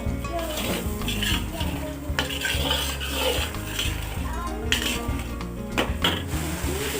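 Onions frying in a pan for fish curry give a busy sizzle under repeated metallic stirring and scraping of a spoon against the pot, close and continuous, with a low hum in the background.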